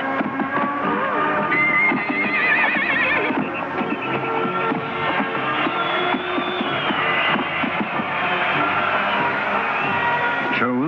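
Horses in a Mexican cowboy rodeo, with whinnies and hoof clatter under a dense, continuous wash of crowd noise and music, loud and steady throughout.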